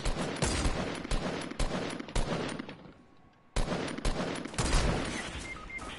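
Rapid bursts of gunfire in Fortnite: Battle Royale played on PS4, loud and dense, broken by a short lull before the shooting resumes.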